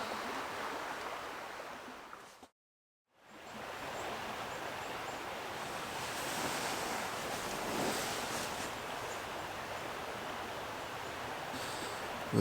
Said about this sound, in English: enjoy the sound of the creek